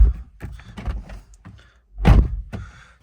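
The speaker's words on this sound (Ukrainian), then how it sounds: "так відкриємо двері, щоб не ругалося" A car door on a Fiat 500 with 58,000 km is unlatched and swung open nearby, giving a few clicks and rustles before a firm thunk, alone without talk.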